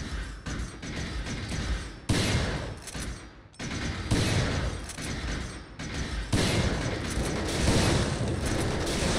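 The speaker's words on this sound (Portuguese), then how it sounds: "Tem que dar dois tiros." Gunfire at statues in the video game Resident Evil 4, a dense series of loud sharp shots and mechanical clatter in several bursts, continuous with no speech.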